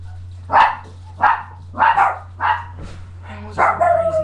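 A dog barks six times in a row at close range, short sharp barks roughly half a second apart over a low steady hum, with no cat sound evident.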